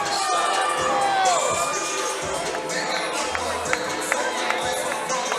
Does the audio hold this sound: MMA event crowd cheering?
yes